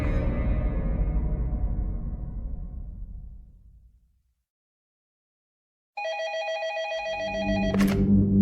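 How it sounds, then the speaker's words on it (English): An old-style telephone bell rings twice with a bright metallic trill, close and clear after a fading low rumble and a moment of silence. "Verrier was in his office in Montpellier when his phone rang."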